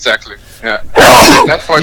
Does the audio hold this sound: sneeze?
yes